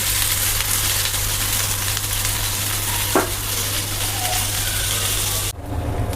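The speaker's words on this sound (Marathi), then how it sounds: "यावर तेल टाकूया, छान लालसर होईल तोपर्यंत आपल्याला या कांद्याला भाजून घ्यायचं आहे" Onions roast in oil for Maharashtrian misal pav, giving a steady close frying hiss with a brief scrape midway, before the sizzle drops off abruptly near the end.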